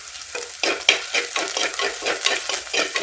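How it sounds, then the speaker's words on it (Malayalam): Green chillies sizzle and crackle in hot oil in a pan while being stirred, a rapid rhythmic scraping and frying sound, close and fairly loud with no talking. "രണ്ട് പച്ചമുളകും കൂടെ ഞാൻ അതിന് ഇട്ട് കൊടുക്കുന്നുണ്ട്"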